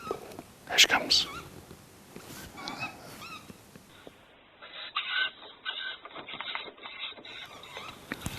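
Tawny owl chicks call from the trees in repeated raspy, hissing bursts, near and fairly clear, with soft whispered talk at the start.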